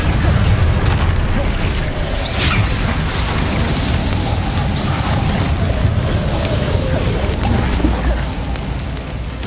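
A Confringo explosion spell in the video game Hogwarts Legacy gives a loud, sustained booming rumble with crackling fire-like texture, continuous and close, with no clear talk.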